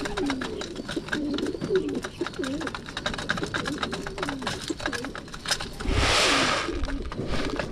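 Pigeons cooing inside a pigeon loft fitted with perch boxes, repeated soft throaty coos close by from several birds, with a brief louder rustling burst near the end and a faint engine hum in the background.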